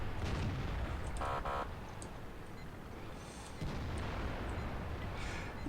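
A heavy FV4005 Stage II tank cannon boom in a video game opens over continuous rumbling battle noise, followed by a mechanical burst and further distant booms.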